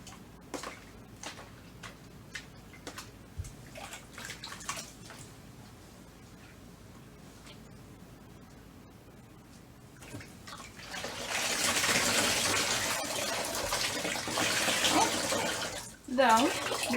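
Tap water runs while dyed yarn is rinsed in a sink, starting as scattered drips and handling sounds, then swelling into a steady close gush for several seconds before cutting off.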